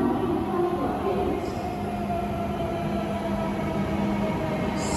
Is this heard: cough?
no